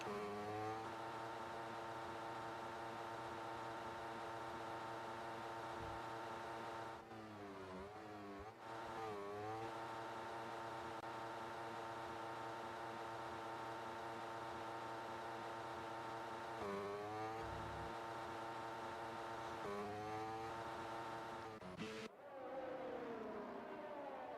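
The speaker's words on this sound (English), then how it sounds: "I believe that's Moreno trying to burn fuel by just revving the engine like hell." An F1 car engine revs hard in F1 22 during an esports race at the Belgian GP, a steady high-pitched drone that rises and falls in pitch with a few quick dips, loud and continuous throughout.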